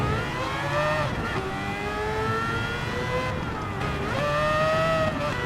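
A race car engine in Gran Turismo 7 revs high and steadily, with pitch climbing through the gears and dropping on each upshift, loud and continuous.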